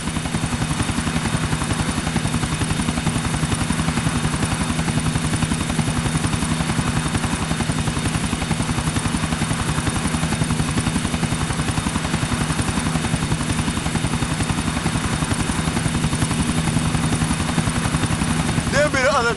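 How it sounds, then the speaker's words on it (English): A helicopter's rotor chops in a fast, steady rhythm throughout in GTA IV, loud and close, with a continuous engine drone underneath. "Chopper, stick to him, Niko."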